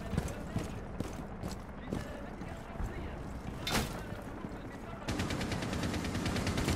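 Gunfire in Rainbow Six Siege: a steady, moderately quiet stream of shots and rattling bursts, with a sharper crack partway through and denser rapid fire near the end, under faint voices.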